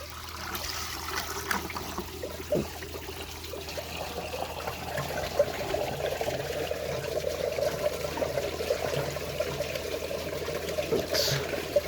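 Water trickles and pours steadily into a toilet tank that holds added dirt, topping up to the manufacturer's fill level. The flow is continuous and moderately quiet, a soft splashing stream with no voices.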